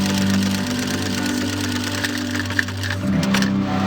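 Sewing machine stitching trouser fabric alongside elastic, a steady close mechanical whir running continuously, briefly easing near the end.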